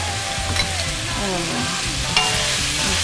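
Raw chicken tipped into a pan of browned onions frying in oil, giving a loud, steady sizzle with scraping stirs and a sharper burst of frying partway through.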